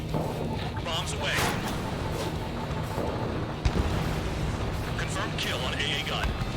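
Bombs explode in the Ace Combat 7 flight combat game as a dense, rumbling wash of blasts with one sharper boom midway, under frequent radio chatter and game voices.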